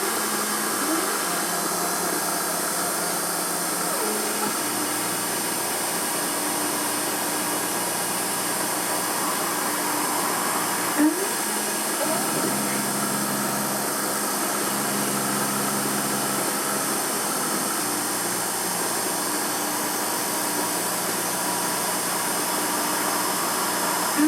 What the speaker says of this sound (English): This is the centre drill to drill the fixings for the engine.